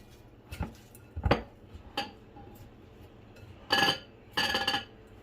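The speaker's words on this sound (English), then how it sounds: "Let me just give it a quick stir before we continue" Cabbage pie filling seasoned with pepper is stirred in a pan. A spatula or utensil makes several scattered clinks and scrapes against the pan, ending in two longer scraping bursts, close and without talk.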